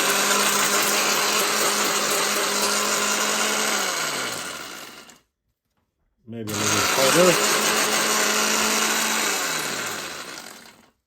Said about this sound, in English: When you have a smoothing machine, but you need a blender, you use it as a blender.